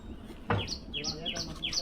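A bird gives a series of short, high, rising chirps, repeated about five times in quick succession. It sounds fairly faint over outdoor background noise during a road trip near Karwar and Ankola.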